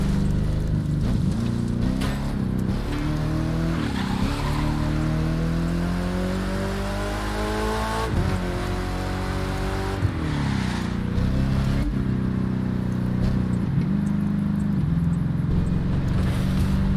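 The Spyker C8 Aileron sports car in The Crew 2 racing game revs loudly through several gear changes, its engine pitch climbing and dropping repeatedly, with tire and road noise underneath and no talk.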